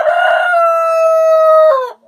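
A young backyard rooster, about 120 days old, lets out one loud, close crow that holds steady for about two seconds before dropping off abruptly, with no voices.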